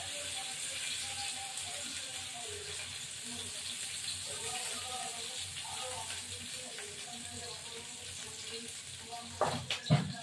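Crushed ginger, garlic, cumin and chilli fry in oil with a steady, continuous sizzle, and a few sharp clatters come near the end. A voice talks faintly in the background.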